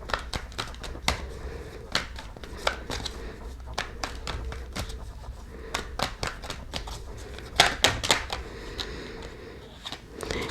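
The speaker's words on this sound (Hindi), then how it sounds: "लास्ट 3 शफल्स फिर हम लोग कार्ड पिक करेंगे" Tarot cards being shuffled by hand, with close, crisp, irregular slaps and riffles, a few sharper flurries in between, and no talk over them.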